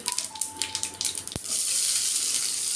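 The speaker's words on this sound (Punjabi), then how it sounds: "ਬਰੀਕ ਬਰੀਕ ਕੱਟਿਆ ਜਿਹੜਾ ਆਪਣਾ ਪਿਆਜ਼ ਆ ਉਹ ਆਪਾਂ ਪਾਤਾ ਜੀ" Crackling spits in hot oil, then a sharp clatter as finely chopped onion drops into the pan, followed by a loud, steady sizzle of frying.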